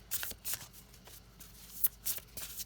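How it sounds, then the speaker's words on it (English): Tarot cards being shuffled in quick, papery bursts, several riffling clatters spaced across a couple of seconds, close and fairly quiet with no talking. "Let me shuffle."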